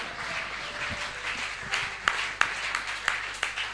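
A church congregation applauds in scattered, uneven claps that grow denser toward the end, a few sharp individual claps standing out over a soft crowd murmur.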